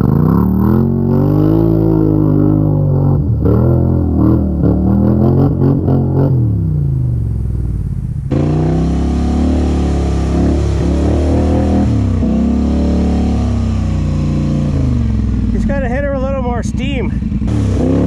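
A loud ATV engine with aftermarket exhaust revs and roars up close at an ATV park, pitch rising and falling through several throttle bursts, with people talking over it near the end.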